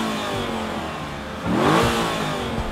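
A car engine idles and then revs up loudly, the pitch climbing and settling back down, recorded close with no talking.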